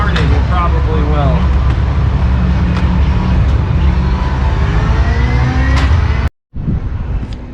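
At a large car meet, a tuned car engine revs loudly and repeatedly close by, a steady mechanical roar with sharp rises, while people talk nearby; the noise cuts out abruptly for a moment, then resumes.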